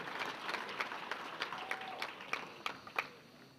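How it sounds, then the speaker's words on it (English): Banquet audience applauding the Lorain Sports Hall of Fame class of 2023 inductees at their enshrinement dinner: a faint, distant patter of many hands with scattered sharper claps, steady for a few seconds. "how about a big round of applause for the class of 2023 into the Lorain Sports Hall of Fame"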